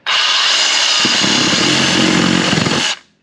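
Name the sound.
Sawzall reciprocating saw cutting car air intake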